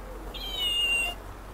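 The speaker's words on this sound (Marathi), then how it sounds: "मांजर" A single drawn-out cat meow, clear and fairly close, rising and holding for about a second over quiet background hum.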